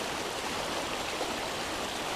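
River water flowing steadily, a continuous rushing hiss of current close by, even and unbroken throughout, with no voices.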